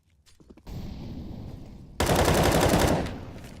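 Gunfire in a CS:GO competitive match, a loud burst of rapid automatic shots followed by a denser, louder volley that fades, close and alone.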